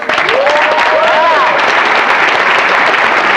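Audience applause at a BotCon 2004 convention panel: sustained, dense clapping from a large crowd, steady and loud throughout, with a voice briefly heard over it near the start.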